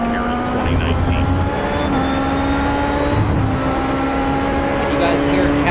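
A Dallara 2011 race car engine in the iRacing game at Interlagos holds a steady high-pitched drone with slight pitch shifts, loud and continuous, with a voice speaking faintly beneath it.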